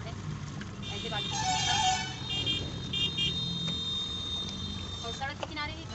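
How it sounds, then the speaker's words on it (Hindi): Vehicles passing on a road beside a house, with several short horn toots over a steady traffic rumble, while a person talks throughout. "और सड़क के किनारे ही घर है फ्रेंड्स, तो गाड़ी वगैरह का आवाज़ तो आप सभी को मिलता ही रहेगा"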